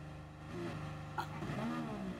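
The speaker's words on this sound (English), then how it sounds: "Driving around an F1 car at night." Formula 1 car engine in Gran Turismo Sport, driven at night in PlayStation VR: a steady, fairly faint high-pitched engine drone that shifts pitch slightly as it holds speed.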